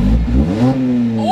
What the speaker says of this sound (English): Rev it a little bit.